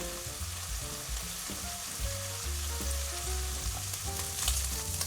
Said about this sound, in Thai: ไฟกลางพัดให้สีสวย